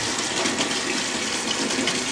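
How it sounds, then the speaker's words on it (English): Steady gushing ice cold water pouring continuously in a shower, loud and close, with no pauses. "Some nice ice cold water."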